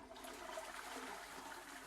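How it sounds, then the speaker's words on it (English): Toilet flush in the Zelda Skyward Sword video game, a faint rushing gurgle of water lasting under two seconds, heard alone. "I hope it made a flushing sound at the end there."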